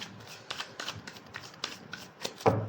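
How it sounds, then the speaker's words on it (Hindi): Tarot cards are shuffled by hand in a quick run of soft riffling slaps, close and fairly quiet, with a sharper louder burst near the end and no talking. "Last shuffle."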